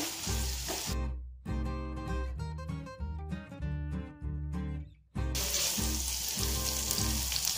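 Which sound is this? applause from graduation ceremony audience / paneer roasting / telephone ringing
paneer roasting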